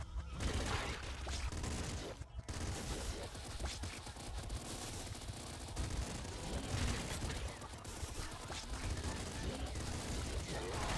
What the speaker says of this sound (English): This shotgun's terrible.